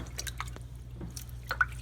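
Peeled hard-boiled eggs rinsed in a bowl of water, giving soft scattered drips and small splashes over a low steady hum, close and quiet with no talking.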